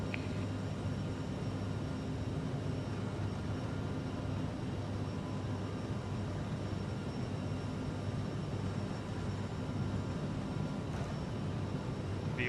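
Airliner jet engines spool up into a steady, loud broadband roar during a takeoff roll in a flight simulator, a continuous engine drone with a faint click near the end.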